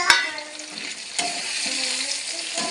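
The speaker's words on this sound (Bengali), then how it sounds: "এবার পেঁয়াজটা খুব ভালো করে ভেজে নিচ্ছি" Onion frying in a pan with tomato and green chili just added, a steady crackling sizzle broken by a few sharp stirring scrapes and clatters against the pan.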